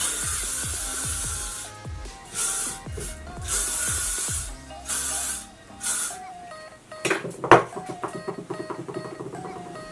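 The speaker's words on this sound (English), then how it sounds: "I'm just gonna set my hair with the hairspray first." Hairspray is sprayed onto hair in several short, close bursts with brief pauses between them, followed by softer handling and rustling of the hair.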